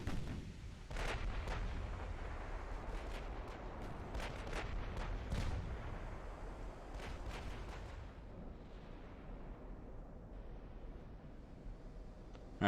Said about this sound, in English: I want to see both these turrets firing this time.